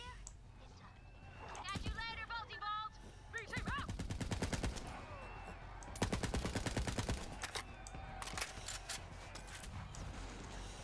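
Rapid video-game gunfire aimed at bandits in a sci-fi shooter, two or three sharp bursts of quick repeated shots, loud and close, with brief voices and game sounds between volleys.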